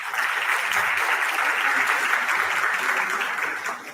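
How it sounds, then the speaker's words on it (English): Sustained audience applause fills a conference hall at a dental sciences and oral health gathering, steady and dense from start to finish before easing slightly at the end. "give a thunderous round of applause"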